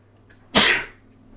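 A single sharp sneeze bursts out close by, preceded by a faint intake of breath, then quiet.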